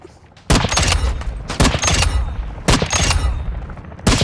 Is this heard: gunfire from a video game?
yes